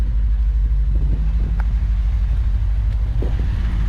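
A stock Lexus IS-F sits idling, its engine a steady low rumble close by, with a few faint clicks over the drone.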